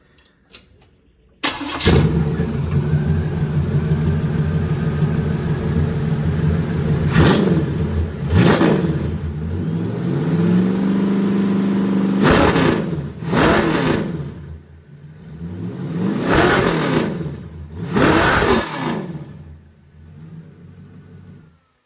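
A '79 Trans Am's Oldsmobile engine with a Quadrajet carburetor cranks and catches, idles, then revs hard several times with sharp rises and falls in pitch, loud and close, and cuts off at the end.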